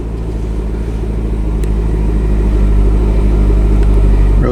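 A Chevrolet C6 Corvette convertible's engine fires up and settles into a loud, steady, deep idle rumble close by, slowly building slightly in level with no talking.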